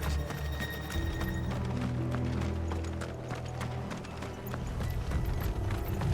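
Rapid hoofbeats of galloping horses in the video game Final Fantasy XVI clatter steadily, loud and close, with mechanical rattles and a faint whinny in a busy mix.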